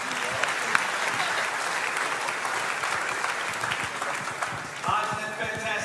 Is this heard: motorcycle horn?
no